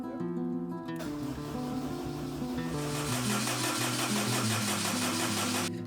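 A Honda K20 engine swapped into a Honda S2000 cranks with a steady, even starter whir that holds for several seconds and turns busier and louder toward the end without catching. No voices are heard.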